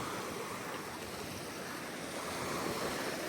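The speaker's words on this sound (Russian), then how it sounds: "Вечером вот такой шумный Байкал." Evening waves on Lake Baikal, a dense, unbroken roar of surf washing on the shore, loud and steady with some wind noise mixed in.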